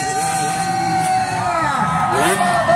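Spectators at an open grasstrack motorcycle race in Bililas, Riau, cheering and whooping loudly as a rider nears the finish, a continuous crowd roar with shouts rising near the end, mixed with tonal engine-like whine and little distinct clapping.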